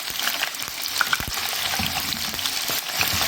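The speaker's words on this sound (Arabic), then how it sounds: "اول ما لونها يبقى ذهبي نحمر. نقلب بس ايه الناحيتين." Food sizzles in hot oil as it fries to golden, a dense close crackling hiss with scattered pops and a few soft knocks as the pieces are turned.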